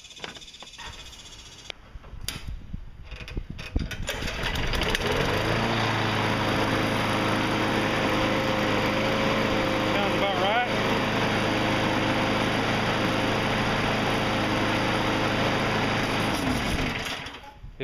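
Briggs and Stratton lawn mower engine after an RPM adjustment: a few clunks, then the engine starts and runs at a loud, steady high-pitched drone up close before cutting off near the end.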